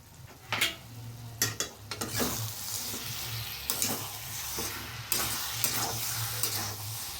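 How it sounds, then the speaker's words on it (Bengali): Cabbage and chicken ghonto seasoned with garam masala is stirred in a sizzling pan, soft frying hiss punctuated by repeated spatula scrapes and clinks, no voices. "এই সামান্য গরম মশলা আমি দিয়ে সুন্দর নাড়িয়ে চাড়িয়ে আমি নামিয়ে নেব"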